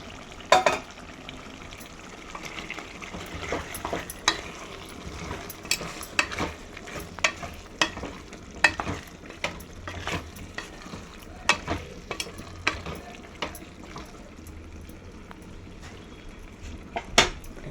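Two thinly sliced tomatoes fry in a pan for chicken curry, a soft continuous sizzle broken by frequent sharp clinks and scrapes of a spoon stirring against the metal.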